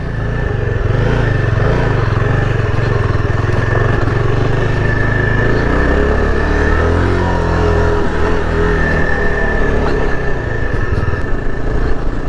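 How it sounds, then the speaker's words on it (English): A Yezdi Adventure motorcycle cruises on the highway, engine humming steadily under loud wind rush from close by, the pitch shifting slightly partway through with no speech. "So now let's ride this on the highway"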